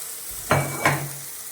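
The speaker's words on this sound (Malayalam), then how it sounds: "അതിൻ്റെ പച്ചമണം മാറുന്ന വരെ നമ്മൾ ഇളക്കി കൊടുക്കുക" Crushed shallots and chilli stirred as they fry in a pan, two quick close scrapes over a soft continuous sizzle.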